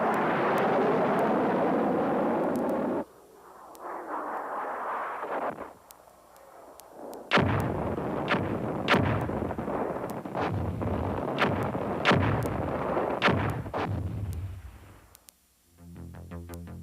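An MLRS rocket launcher fires Army TACMS missiles: a loud, sustained roaring rush of launch blast with wind buffeting, a short drop, then renewed heavy roaring with sharp cracks, fading near the end.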